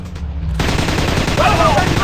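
Loud, dense automatic gunfire from the Commando Strike video game, continuous rapid bursts close up, with a brief shouted voice line over the shooting.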